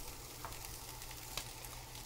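A faint, steady sizzling hiss of liquid nitrogen boiling around an egg, with a couple of small crackles, no voices.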